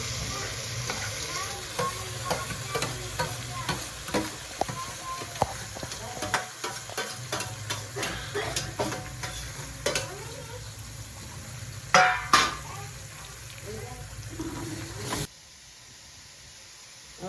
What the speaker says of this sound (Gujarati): કસૂરી મેથી અને આ ડુંગળી ટમેટું આદુ ને મરચીનું કટિંગ કરેલું છે તે એડ કરી દઈએ